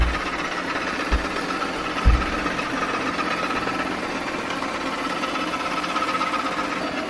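A robot vacuum in wash mode vacuums and mops a floor, its motor giving a steady, close whirring drone with a couple of soft thumps early on.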